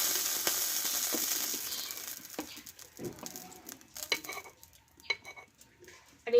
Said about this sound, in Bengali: এইভাবে আমি চারিদিকে একটু মাখিয়ে নেবো কড়াটায়